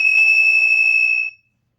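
A loud, steady electronic horn tone from a horn fitted to a Burromax mini bike holds for over a second, then cuts off abruptly into silence.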